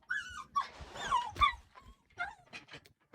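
A dog whimpers and whines in a series of short, high, nasal cries up close, with brief yips between the whimpers and no voices over them.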